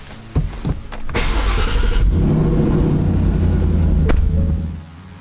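A Ford Mustang S550 Mach 1 cranks and fires up close and loud, a short starter whir followed by a throaty rev that settles into a steady rumbling idle before cutting off.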